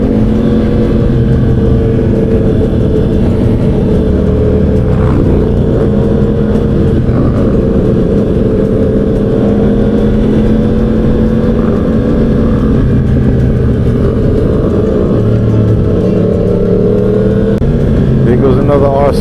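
Sport motorcycles, including a Yamaha R7, rev and roar continuously at an underground stunt ride, a dense steady engine drone with rising pitch swells and crowd voices mixed in.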